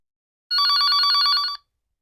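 A single loud, close burst of a classic telephone bell ringing, a fast rattling trill lasting about a second, set against otherwise complete silence.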